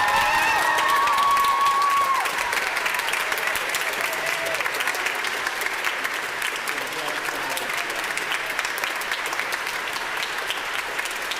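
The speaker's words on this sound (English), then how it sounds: "Let's give all of our recipients a great big hand." A large audience at a children's choir Christmas and holiday concert breaks into loud, sustained applause with some cheering and whoops, a few voices briefly audible at the start before the clapping continues evenly to the end.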